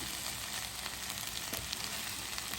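Okra frying in hot oil with no water added, grated coconut mixed in, giving a steady, close, broadband sizzle that crackles continuously with small pops throughout.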